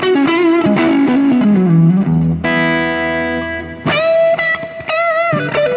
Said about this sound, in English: to create this distortion with the pub channel, I use the Zen master drive